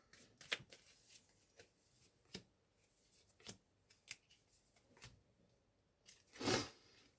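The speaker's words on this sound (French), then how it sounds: "Je vais prendre 3 cartes du 32 pour voir." Quiet papery flicks and slides as cards are drawn from a 32-card deck, a series of soft brief rustles spaced across several seconds, ending with a longer louder shuffle, no voices.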